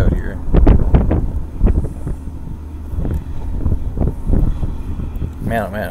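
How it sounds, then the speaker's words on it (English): A strong crosswind buffets the microphone outdoors, with heavy low rumbling gusts that keep up throughout and a faint higher whine underneath. "Man, oh man, that's quite a crosswind."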